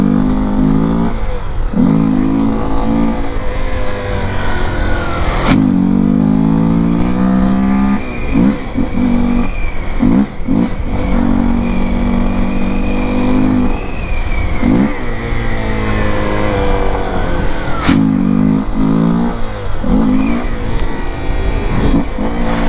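Honda XRE 300 motorcycle ridden at night with no air filter, its engine loud and close throughout, climbing through revs, dropping off and pulling hard again, with no talking.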